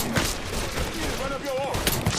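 Shotgun fire rings out in Mafia 3 Definitive Edition, with several sharp blasts amid busy combat noise and a brief voice cry in between.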